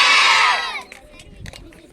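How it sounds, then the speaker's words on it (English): A school crowd at a National Sports Day celebration claps and cheers loudly to welcome the kabaddi team players, a dense wash of applause that fades after a moment into scattered quieter clapping and voices. "With your huge round of applause, I welcome all our kabaddi team players."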